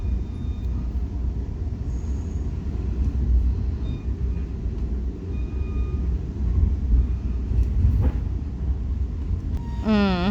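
A Heritage Corridor commuter train rolls through a rail yard, heard from onboard as a continuous low rumble with faint squeals and a rising tonal whine at the end.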